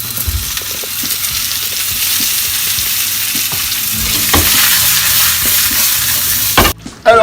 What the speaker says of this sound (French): On rajoute un petit coup d'huile dessus.